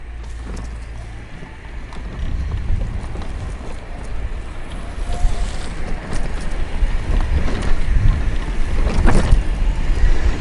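A fully loaded Permobil M3 power wheelchair with a 12-inch seat lift drives across grass outdoors. Its steady low motor rumble rises slightly partway through, mixed with gusting wind noise, and no one speaks.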